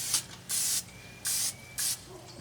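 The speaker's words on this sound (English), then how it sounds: "I spray it fairly heavy." Three short bursts of cooking spray hissing from an aerosol can into an aluminum pot, each about a quarter second long, close and crisp in a quiet room.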